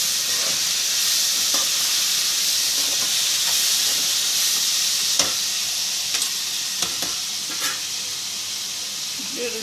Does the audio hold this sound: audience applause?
no